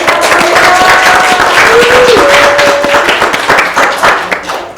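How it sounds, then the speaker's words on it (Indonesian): Audience applause at an Indonesian Father's Day talk show, a loud burst of dense clapping that fades toward the end, with a brief voice faintly audible. "Boleh tepuk tangannya."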